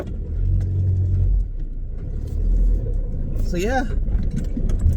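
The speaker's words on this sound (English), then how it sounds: "lots of car traffic here" Cars pass on a busy road beside a parked camper van, engines rumbling and swelling by at close range, with someone talking briefly over the traffic.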